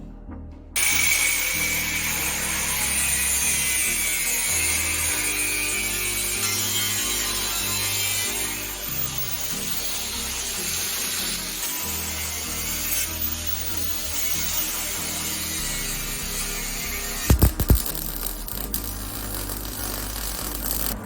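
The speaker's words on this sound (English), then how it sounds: "But it's a little bit wide, so I'm gonna cut it down the middle." A power tool cuts a metal seat frame inside a school bus being converted to a living space, a steady loud grinding-cutting drone running continuously with a brief louder burst near the end.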